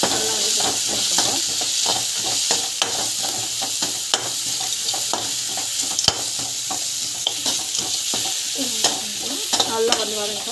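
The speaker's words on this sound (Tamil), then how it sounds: "இது பார்த்திங்கன்னா அந்த எண்ணெயில் நல்லா ஃப்ரை ஆகணும்." Bitter gourd frying in hot oil with chilli powder, stirred steadily in a pan, giving a constant loud sizzle broken by frequent scraping and clacking strokes of the spoon; no talking.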